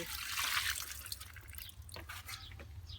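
Water drips and trickles softly onto plant cuttings being watered with rainwater, a faint, close, scattered patter of a few separate drops over a quiet background.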